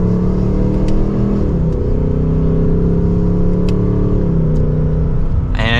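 A 2024 Ford Mustang GT accelerates hard from second gear, its engine note rising steadily and loudly with a brief dip at a shift, then climbing again as a sustained close-up roar inside the cabin.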